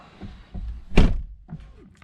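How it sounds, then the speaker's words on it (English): A single solid door thunk from a 2020 Toyota Supra, close and loud, with faint rustling and small knocks before and after. "Let's shut this door and start her up."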